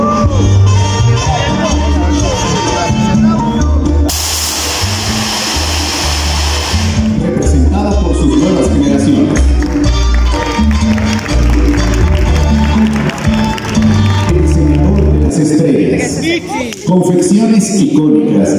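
Audience at an event featuring a Mexican band applauds, with loud crowd applause over music, a bright burst of clapping in the middle and continuous crowd noise throughout.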